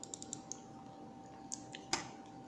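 Sparse crisp clicks from the Live Tech Vulcan RGB gaming mouse buttons: a short burst of taps, a pause, then a couple more, the last one sharpest, close and quiet, without voices.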